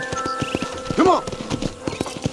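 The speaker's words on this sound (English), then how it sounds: "I picked out a fine horse for you." Steady clip-clop of horse hooves at an even walking pace in the video game Red Dead Redemption, with a horse whinnying loudly about halfway through.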